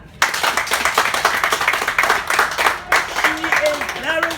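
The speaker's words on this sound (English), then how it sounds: "Give her a hand clap." An audience claps for the minister at a donation event, a brisk burst of applause from nearby hands that fades as a voice speaks over the end.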